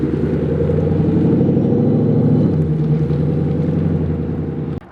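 A Ford Mustang GT V8 running on a dyno, a loud, steady low rumble that holds then drops slightly in pitch midway before cutting off abruptly at the end.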